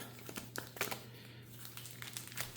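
Modern Horizons 3 booster packs are shuffled together by hand, giving soft crinkling foil-wrapper rustles in short close bursts over a faint steady hum.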